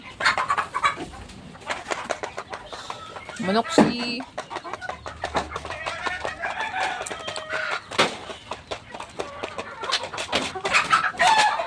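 Chickens cluck and squawk close by on a farm, with a rooster crowing among busy, overlapping calls while people talk over the birds throughout.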